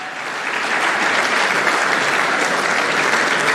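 A large conference audience claps loudly and evenly, the applause swelling slightly in the first half-second and then holding steady with no voices.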